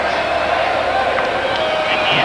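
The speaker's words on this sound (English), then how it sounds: "Some happy South Africans in the crowd there." South African fans in a cricket stadium crowd at a 1999 World Cup match, a steady wash of cheering and babble with scattered shouts and whistles rising slightly toward the end.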